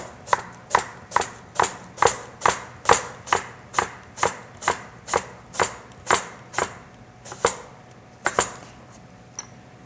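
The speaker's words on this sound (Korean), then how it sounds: "사과를 얇게 썰어서" A knife cuts thin slices of apple on a cutting board, giving a run of about seventeen crisp, evenly spaced chops close by that slow and thin out toward the end, with no voice.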